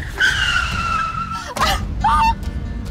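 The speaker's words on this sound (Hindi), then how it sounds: "तुम गाड़ी से उतर रही थी इसलिए मुझे ब्रेक लगानी पड़ी" A car brakes hard and its tires skid on the road, drawn-out screeching squeals rising and cutting off, followed by a shorter second squeal, with faint voices underneath.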